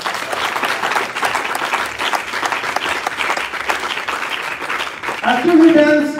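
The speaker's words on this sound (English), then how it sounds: "Give us a round of applause." Audience applause at a university Pan African lecture series event, loud sustained clapping from a crowd throughout, with music beginning faintly near the end.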